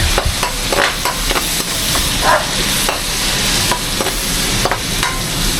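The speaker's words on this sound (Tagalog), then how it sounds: "Ginigisa ko na itong giniling." Ground meat sautéing in a hot pan for a rainy-day breakfast, a steady loud sizzle broken by frequent scraping stirs of a spatula against the pan, close up and with no talking.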